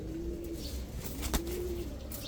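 A large male army-breed pigeon coos close by, giving a couple of low, drawn-out coos over a steady background hum.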